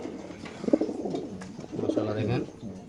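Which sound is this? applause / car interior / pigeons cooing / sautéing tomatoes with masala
pigeons cooing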